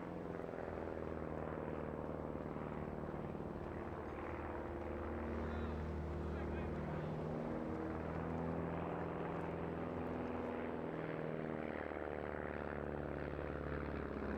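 An aerobatic plane manoeuvring at a seaside airshow gives a steady droning engine hum with shifting tones, heard at a distance under a commentator's voice.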